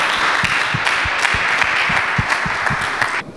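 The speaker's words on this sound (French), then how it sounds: "et sous vos acclamations, s'il vous plaît." An audience applauds as the sessions of an entrepreneurship conference are declared open. The clapping is dense and steady, a crowd cheering together for about three seconds before it cuts off abruptly.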